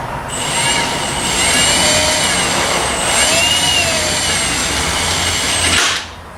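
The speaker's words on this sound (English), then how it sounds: "It's hard to use a cutting hole saw" A power drill spins a hole saw through metal during an LS-swapped S10 build, with the pilot bit breaking. A loud, steady high whine runs close for about six seconds, then cuts off abruptly.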